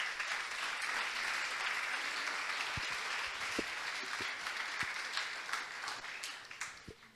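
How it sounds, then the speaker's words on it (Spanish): A church congregation applauds in a continuous, even mass of clapping, a few sharper individual claps standing out near the end, fairly quiet and somewhat distant. "Le puede dar un fuerte aplauso al Señor"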